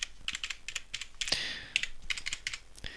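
Fingers type a password on a computer keyboard while an Outlook email account is being set up, producing quick bursts of close key clicks with short pauses and one longer press.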